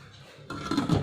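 A lid is set onto a pot of Ladakhi thukpa simmering with pasta, giving a single close clatter of metal on metal partway through, followed by a short ringing scrape as it settles.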